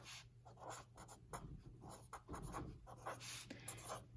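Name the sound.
writing answer by hand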